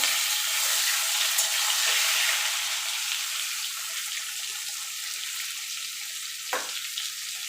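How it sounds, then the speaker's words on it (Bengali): Papaya and potato pieces fry in oil, a loud continuous sizzle that settles slightly partway through, with one brief utensil knock near the end. "আমি একসঙ্গে পেঁপে আলুটা দিয়ে ভেজে নেব।"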